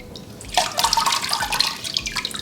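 Water sloshing and splashing as a small paper-pulp frame is dunked and shaken in a tub of pulp slurry for homemade recycled-cardboard paper, a burst of wet agitation beginning after a quiet start and continuing steadily, close up with no talk.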